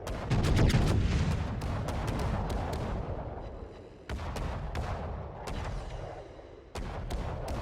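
Secondary guns of the battleship Bismarck firing in World of Warships, a rapid series of loud, sharp reports in irregular bursts, some overlapping, with rumbling echoes between volleys.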